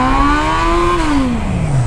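A Honda Hornet motorcycle engine revs hard, its pitch climbing and holding before falling away as the throttle closes, loud and close for the whole two seconds.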